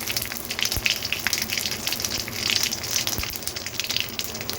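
Mustard seeds, cumin and four dried chillies fry in hot oil, a steady bright sizzle with scattered crackles and pops, close and continuous with no talking.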